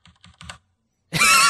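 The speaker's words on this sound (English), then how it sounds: "for everybody listening at home, this is what my keys sound like. When I'm typing, it is that loud" A loud computer keyboard clatters in three quick bursts of key presses close to the microphone, then goes quiet before a sudden harsh burst of noise at the end.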